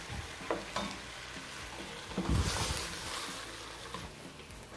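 Cleaned shrimp, 400 grams, added to a hot pan, a soft sizzle with a few stirring clatters and a louder burst as they hit the pan, then a steady quieter frying hiss.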